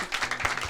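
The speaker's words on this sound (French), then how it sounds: "Je vous demande d'applaudir Kilo." Studio audience applause on a French talk show, a brief burst of clapping heard up close.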